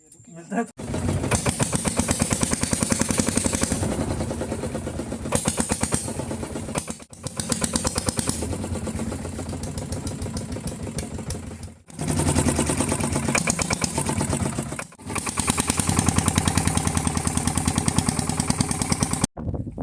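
The engine of a motor dinghy runs on a fishing trip off Havelock Island in the Andamans. The chugging drone is loud and rhythmic and continues throughout, with a few brief dips in intensity.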